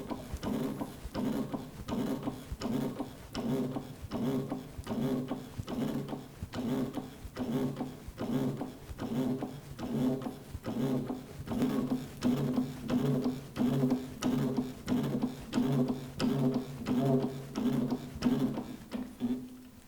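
Drum lifter dispenser raising a plastic drum, a steady train of rhythmic mechanical clicks and clunks repeating about once per second, fairly quiet and close, with no talking.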